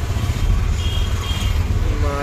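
An auto rickshaw engine runs in Mumbai–Nashik road traffic, a dense steady low rumble that fills the short clip at close range and masks a faint background voice.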